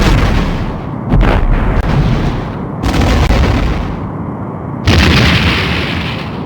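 In a Star Trek: The Next Generation video game, torpedoes fire and explode against a Romulan warbird, a series of loud, heavy booming blasts with rumbling tails, the last burst the brightest.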